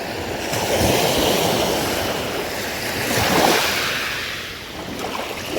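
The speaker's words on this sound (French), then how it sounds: "j'entends que les vagues" Ocean waves wash steadily onto the shore in a broad, continuous roar that swells and eases, with some wind noise and no voices.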